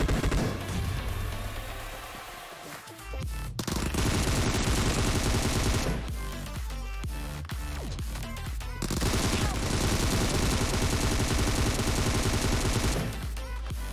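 Dense bursts of automatic gunfire from a shooter video game, rapid and loud in long stretches separated by brief lulls, with game sounds layered in.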